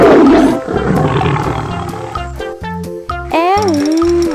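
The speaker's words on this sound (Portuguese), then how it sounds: "É do leão." A lion roars loudly up close, a deep rough bellow followed by grunting calls, then tonal sliding cries toward the end.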